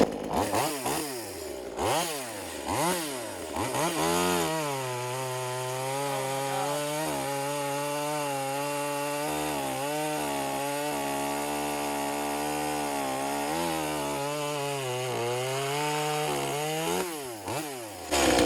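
A V-Modest 2511 top-handle chainsaw, a clone of the Echo 2511, cuts through tree branches, loud and close, its engine revving up and down between cuts and then holding a steady high whine under load for most of the stretch.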